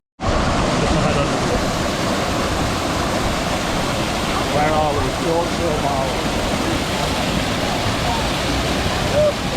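Steady roaring rush of a waterfall close by, constant and loud throughout, with voices talking and calling over it.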